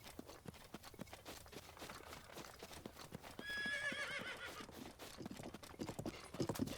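Horse in Zelda: Breath of the Wild whinnies loudly partway through over steady clip-clop hoofbeats, with game ambience throughout.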